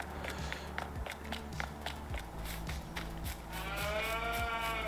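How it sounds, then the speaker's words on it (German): Several cows in the farming game Landwirtschafts-Simulator 19 moo in a repeated series of low calls over a rustling farmyard background, moderately close, with no one talking. "Kühe melden sich auch."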